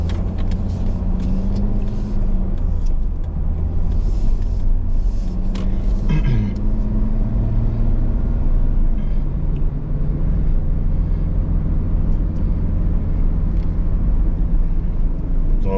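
Car driving through city streets in Bucharest, with a steady low engine and road rumble throughout and passing traffic noise, continuous and fairly loud, no speech.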